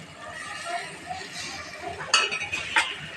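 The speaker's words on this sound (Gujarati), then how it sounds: "હલાવી દઈશું." A spoon stirring spiced aloo paratha filling in a pan: soft scraping followed by a few sharp metallic clinks against the pan, close and moderate in level, with someone speaking softly over it.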